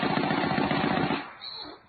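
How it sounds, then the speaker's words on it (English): Rapid burst of staccato gunfire in a radio drama, a round of mercy bullets, fast and dense for over a second before cutting off, on an old lo-fi broadcast recording. "A round of mercy bullets will put him out soon enough."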